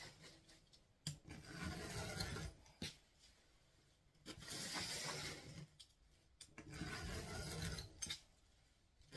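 Scissors snip through decorative mesh being cut into 20-inch pieces for a St. Patrick's Day wreath, in two longer bursts of crunchy, rasping cuts separated by a quieter stretch of handling, close and fairly soft.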